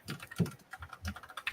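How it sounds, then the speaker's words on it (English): Typing on a computer keyboard: quick, uneven clusters of close, crisp key clicks with small pauses between bursts. "And as Brent's typing"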